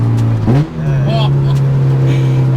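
A K-swapped Honda engine holds a loud steady drone while driving, with a brief shift in pitch early on and a voice talking over it.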